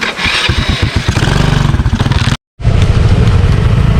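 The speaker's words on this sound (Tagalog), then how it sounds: "Ipapasok mo motor dito." A motorcycle engine cranks and catches, its rapid loud chugging settling into a rough idle, then a momentary cut to silence before the engine resumes running close by.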